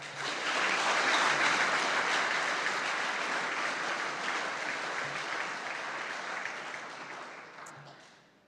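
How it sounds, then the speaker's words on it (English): A large audience at a school sports awards ceremony breaks into loud, dense applause that holds strong for several seconds, then gradually thins and fades toward the end. "Can we all give Mr. Smith a huge round of applause?"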